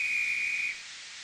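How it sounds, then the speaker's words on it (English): A railway guard's whistle blows one sustained, shrill, steady tone for most of a second, then cuts off, leaving a faint hiss behind it. "Ah, that's my guard's whistle."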